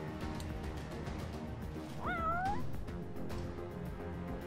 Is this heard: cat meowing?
yes